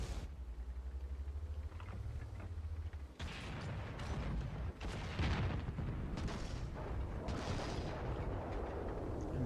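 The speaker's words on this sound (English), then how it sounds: "Yep, we're getting hit by artillery again." Artillery shells striking a German VK 30.02 M medium tank in World of Tanks, with heavy booms and rumbling impacts over a steady droning engine, loud and close.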